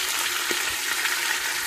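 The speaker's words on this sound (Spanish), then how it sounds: "Mire cómo sofrita todo esto y va cesando" Marinated shredded beef frying in oil and its juices in a pan, a soft steady sizzle with light crackling and a few stirring bumps, fairly quiet.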